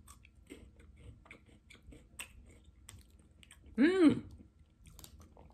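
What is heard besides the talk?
biting and chewing a Japanese Kit Kat bar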